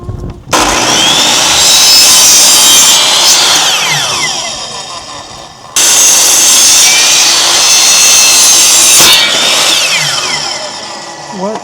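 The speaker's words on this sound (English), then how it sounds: "I think I might try hand sawing instead." Cutting wood by hand saw while making coasters, two long loud bursts of harsh rasping with whining sweeps, separated by a brief stop, then tapering off at the end.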